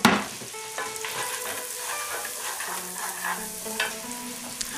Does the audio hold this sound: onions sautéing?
yes